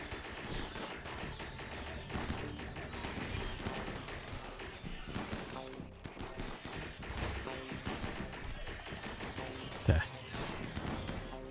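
Constant rattling gunfire in the colony-simulation game Rimworld, many weapons firing at once in a dense, steady barrage, with a brief spoken word over it and one louder thump near the end.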